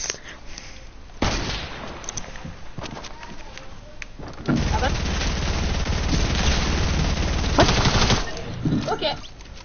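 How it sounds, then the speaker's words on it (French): Sustained video-game gunfire in a building shootout, dense and loud, swelling into a heavier, continuous barrage in the second half with brief gaps between bursts. "Il tire dans sa constru."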